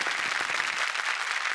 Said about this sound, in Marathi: जोरदार टाळ्या राया अभ्यंकर यांच्यासाठी झाल्या पाहिजेत.